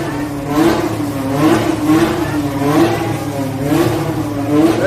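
A BMW M3 G80 revs hard at a car meet, its engine roaring loud and close in a steady, rising-and-falling drone with no talk over it.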